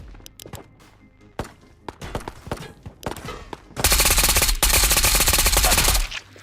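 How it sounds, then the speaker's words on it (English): Gunfire in the Escape from Tarkov video game comes as scattered single shots and footsteps, then a loud, sustained burst of rapid automatic fire lasting about two seconds, close and heavy, with no voices. "There's like shooting everywhere already."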